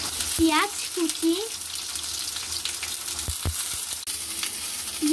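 Chopped onion and garlic fry in oil in a wok, giving a steady close sizzle throughout, with a few sharp knocks and a brief high tonal sound early on.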